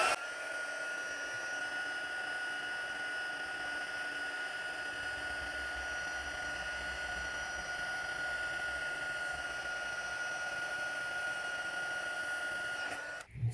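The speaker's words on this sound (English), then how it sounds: "So I'm just going to heat up my embossing tool." A heat embossing tool heating gold embossing powder on craft cards, blowing a steady, close, hair-dryer-like whir with a thin high whine that runs unbroken and then cuts off at the end.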